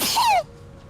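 A single short sneeze, close and fairly loud, ending abruptly and followed by quiet.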